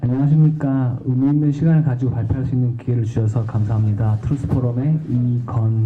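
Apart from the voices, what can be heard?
No everyday noise stands out behind the speech.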